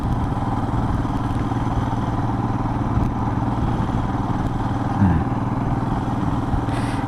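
A Royal Enfield Himalayan motorcycle pulls away, its engine a steady, close, thumping drone with a brief clunk midway, heard from the rider's position.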